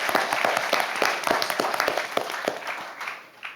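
An audience at a national high school debate final applauds while a judge is introduced, steady dense clapping for several seconds that thins out toward the end.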